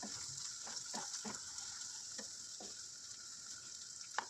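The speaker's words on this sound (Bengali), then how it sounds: "ভালো করে ডিমটা ভেজে সবজির সঙ্গে মিশিয়ে নেব ভালো করে।" Egg frying together with vegetables in a pan for fried Maggi noodles, a steady close sizzle with a few stirring scrapes and soft clicks, no talking.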